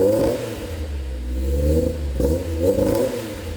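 A Honda S2000 engine revs hard through a light HKS exhaust, close and loud, rising in two sharp bursts with a raspy, throaty note.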